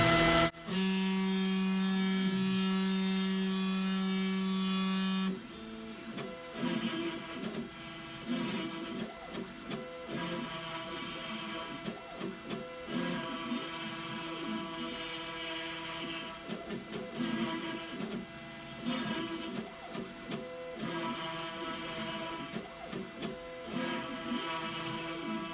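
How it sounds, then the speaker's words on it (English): Desktop CNC router spindle running and carving a workpiece: a steady high mechanical whine with a strong low hum for the first five seconds, then a denser, fluctuating grinding buzz as the bit cuts, close and continuous, with no talk. "So turn on the spindle now."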